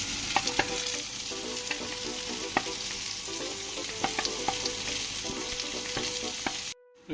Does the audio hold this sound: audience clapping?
no